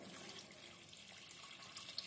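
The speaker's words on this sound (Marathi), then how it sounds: "याच्यामध्ये पाणी घालायचंय." Water poured into a pan of masala rice, a faint, steady splashing trickle that runs alone without a break.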